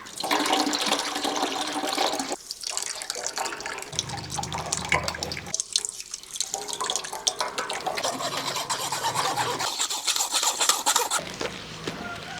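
Grape juice from a large batch made with 12 kg of grapes is strained and poured in a kitchen, a continuous splashing, gurgling stream of liquid with short pauses between pours.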